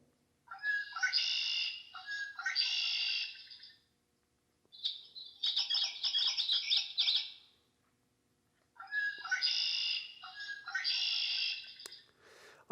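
Three bursts of a blackbird's harsh, buzzy calls, each a few seconds long, separated by silence, clear and close.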